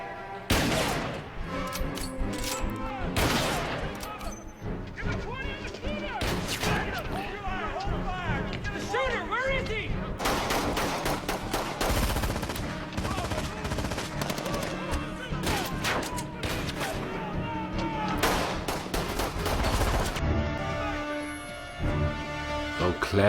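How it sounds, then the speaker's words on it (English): Gunfire from the TV series Fringe, season 4 episode 17, as repeated sharp shots and bursts crack through a dense, busy soundtrack, with voices talking over and between them. "That is some good shooting, Liv."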